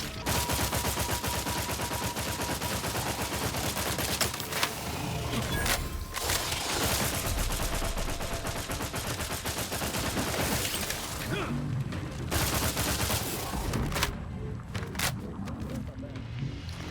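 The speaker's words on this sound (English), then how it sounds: "Burst assault rifle, maybe?" Burst assault rifle gunfire in The Outer Worlds 2 video game, dense rapid volleys of shots running almost continuously, loud and close amid other game sounds, with a voice talking over much of it.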